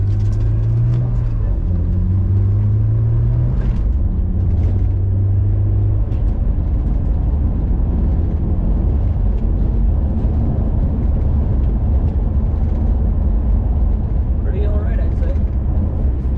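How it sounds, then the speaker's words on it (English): A Honda S2000 sports car on the road, its engine giving a constant loud rumble with a low drone that rises and falls at the start, heard from inside the car with someone talking over it. "this is what actually driving an S2000 looks like"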